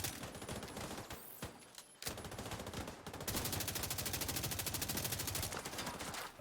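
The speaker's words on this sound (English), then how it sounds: "It definitely is a mounted gun." A mounted gun fires in The Division 2, long sustained automatic bursts with a brief pause near two seconds, then a steady, rapid, loud stream of shots.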